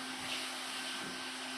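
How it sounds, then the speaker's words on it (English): An industrial all-in-one steam cleaner running in vacuum-only mode over a bathroom sink, its steady, loud motor whine and suction roar continuing unbroken and close by. "let off the steam trigger and just vacuum only"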